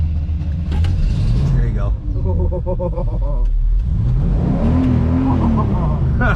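A Pontiac Trans Am engine with the throttle partly open rumbles and revs up and down close by, while people talk over it.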